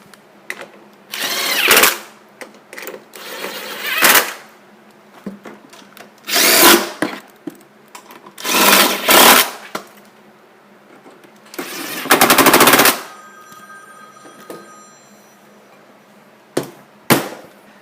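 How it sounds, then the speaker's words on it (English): A 10mm socket driver tightens the carburetor bolts on a 50cc GY6 Chinese scooter, giving loud, close bursts of rapid rattling that come in short repeated runs separated by quiet pauses. "you can go back with your 10mm socket and tighten everything down"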